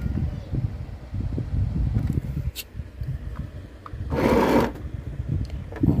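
A SewMighty mini sewing machine runs a flat stitch through bag fabric, a low steady whirring hum close by, briefly interrupted by a short rustling burst.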